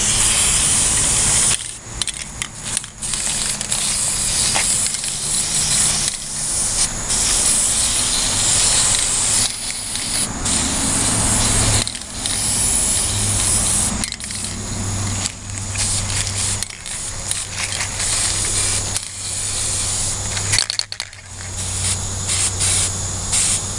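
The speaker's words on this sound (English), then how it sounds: "And we're putting a primer coat on it first here." Flat black primer is spray painted onto a Crosman 2400KT airgun part in loud, close hissing bursts that repeat in several long passes, separated by short pauses.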